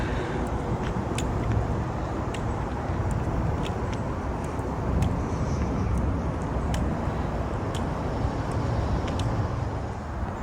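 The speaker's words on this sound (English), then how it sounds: "you can also hear how the traffic sounds that's on the bridge" Traffic crossing the Ravenel Bridge in Mount Pleasant, South Carolina, heard from the park below as a continuous distant roadway roar with small swells and no talk.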